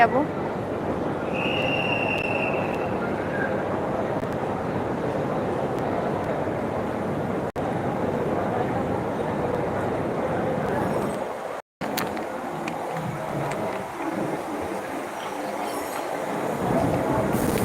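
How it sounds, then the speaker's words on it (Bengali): A train arriving at Mumbai CST station makes a loud, continuous rumble of wheels and rail noise with faint squeals, close by and steady, while people talk underneath. "মুম্বাই সিএসটি স্টেশন এই যে দেখো ট্রেন আসছে"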